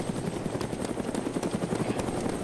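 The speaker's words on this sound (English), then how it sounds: "shoot up at that heli" Helicopter in the video game DayZ Origins, a loud steady rotor thump with engine whine, close and continuous throughout.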